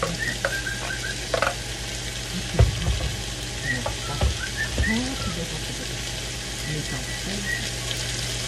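Onion sizzles in a hot pan while beef with broccoli and pineapple is being cooked, a steady crackling fry with occasional clinks and scrapes of stirring and a low background hum.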